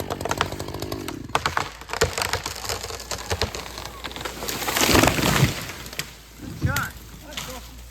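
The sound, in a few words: chainsaw cutting through a tree to fell it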